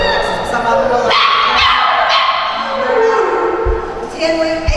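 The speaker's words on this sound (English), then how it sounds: "Here we have a litter of puppies. They are pit mixes." A litter of roughly eight-week-old pit mix puppies yips and whimpers in short, high, overlapping cries close by, with a person talking over them.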